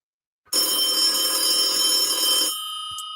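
A telephone rings once in a loud, bright, sustained electronic trill lasting about two seconds, then a fainter tone lingers briefly with no talk.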